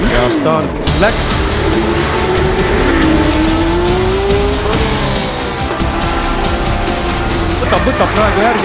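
Loud, dense roar of race cars launching together at the start of the Estonian Grand Prix, engines revving and rising in pitch with tire squeal over the close-up din.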